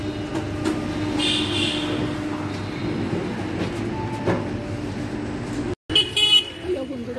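The Latur Express train at Pune railway station before dawn, with a steady rumble of the train and station, a brief horn toot, and a person speaking over it.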